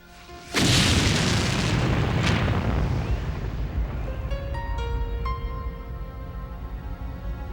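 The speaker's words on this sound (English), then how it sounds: "She flipped the latch and lifted the lid, triggering a fatal explosion." A toolbox bomb explodes with a sudden loud blast, followed by a long rumbling roar with ringing, metallic tones fading slowly over several seconds.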